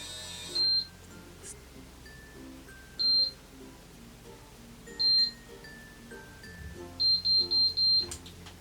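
An automatic steam hair curler gives a single high beep, then another, then a third, and finally a quick run of four beeps, all against a faint low hum.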